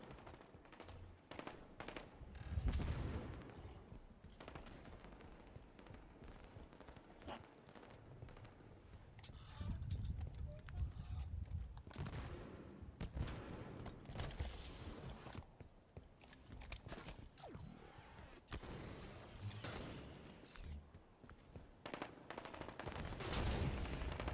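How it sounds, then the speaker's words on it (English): Sniper rifle fire from a Halo match erupts in repeated sharp, booming shots between quieter game ambience, irregular and loud bursts spread across the stretch. "Sniper rifles on the field."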